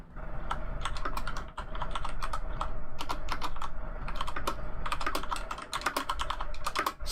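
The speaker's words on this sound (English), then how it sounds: "Sorry if you guys can hear my clacky ass keyboard right now." Clacky mechanical computer keyboard typed on continuously during an iRacing sprint car league race broadcast, rapid uneven keystroke bursts close to the mic over a steady low hum.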